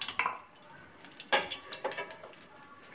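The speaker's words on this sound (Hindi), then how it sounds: "2 चम्मच घी डाल रहा है" Ghee going into a hot pan as tempering for rava vegetable dhokla gives a short, close sizzle with light crackle and a few clinks of spoon and pan, with no talking.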